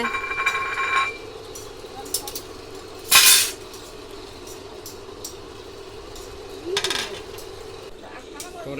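Dishes, pots and spoons clink and clatter as food is served in a village kitchen with a clay stove, several sharp bright knocks spaced apart, with people talking throughout.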